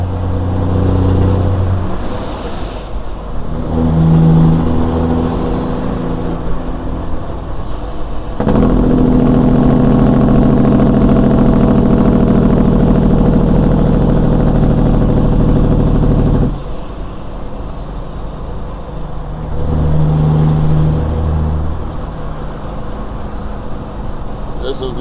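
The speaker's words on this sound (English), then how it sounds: "You take your foot off the throttle, the Jake brake engages" Peterbilt 379 truck with a Caterpillar engine, heard from the cab: loud, sustained Jake brake blatting for several seconds between stretches of engine running, with speech in places.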